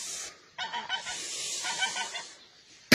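A goose in a Turkish village honks repeatedly, a harsh run of nasal calls rising and falling over about two seconds, fairly close and loud, with no talking.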